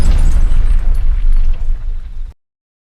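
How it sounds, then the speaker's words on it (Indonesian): A single loud, deep explosion of a house erupts, then rumbles and crackles for about two seconds before cutting off abruptly. "rumah itu pun meledak."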